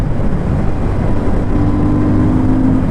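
A Royal Enfield Shotgun 650 twin, a bobber-style motorcycle, pulls hard in third gear at around 100, its engine drone steady and loud under heavy wind rush.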